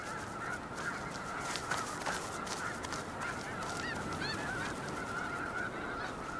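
A flock of geese honks continuously nearby, loud overlapping calls mixed with rustling and flapping, with no voices.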